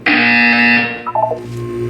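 A loud, close electronic buzzer sounds in a Portal 2 test chamber, a harsh sustained tone lasting under a second, then a short series of falling electronic beeps.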